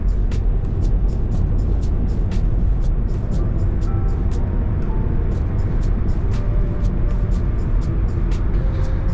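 A Kia Ceed with an automatic gearbox drives along an Austrian road, with a steady, loud rumble of engine and tyre noise and faint ticking clicks over the top, and no talking.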